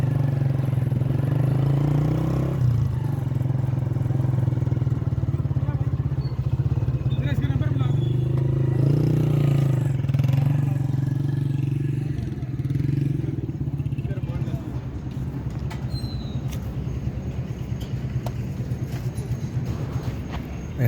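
Steady close motorcycle engine drone with a low rumble throughout, fading slightly near the end, as the bike, which carries a government number plate, rides into the crowded Iftar venue at Malangjaan.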